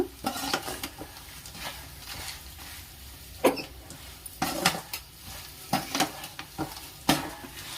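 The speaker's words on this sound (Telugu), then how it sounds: "ఇలా 5 మినిట్స్ అట్లా వేయించాలి" A dry spice mixture with lentils is stirred and fried in a pan, producing a soft sizzle under repeated sharp scraping strokes at an uneven rhythm, loud and close.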